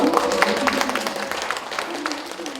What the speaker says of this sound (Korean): 축하 박수 한번 드릴까요